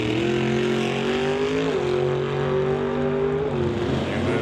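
A Roadster and a 1966 Studebaker drag race, engines droning loudly at high revs with a shift dip partway through and a steady roar fading toward the end, with no talking.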